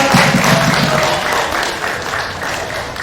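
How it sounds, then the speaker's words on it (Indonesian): Audience applause at a local film workshop in Pamekasan, Madura, a dense, fairly loud wash of clapping that holds steady before easing slightly toward the end. "Kita kasih tepuk juga."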